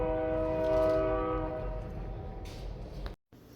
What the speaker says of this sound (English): Quick intermission because the train's rolling through.